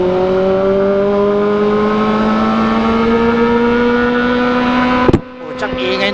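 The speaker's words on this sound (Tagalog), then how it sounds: "Ingay ng exhaust ko." Kawasaki ZX4RR motorcycle exhaust holds a loud, steady high rev with a smooth rising whine, then cuts off abruptly near the end, leaving a short burst of handling noise.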